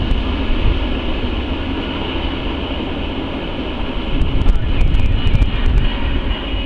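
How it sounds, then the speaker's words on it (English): A transfer freight train rolls steadily past while moving cars between rail yards, a loud continuous rumble and grind with brief metallic clanks near the end and no voices. "Transferring cars to the other yard, I believe."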